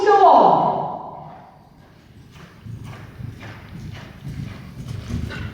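A horse's hooves clip-clop at a walk during a training session, regular steps heard at mid distance after a voice fades out at the start.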